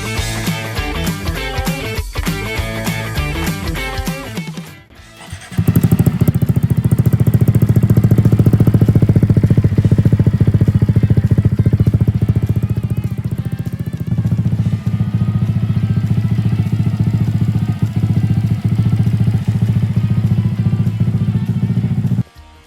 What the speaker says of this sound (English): So here's a comparison for you. Stock is free-flowing exhaust and carb kit.